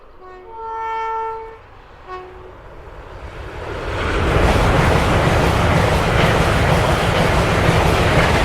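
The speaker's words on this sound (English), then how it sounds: "This is a high-speed train." A high-speed train approaches with a two-tone horn blast, then roars past nearby as a loud, sustained broadband rush with rail clatter that builds and holds to the end.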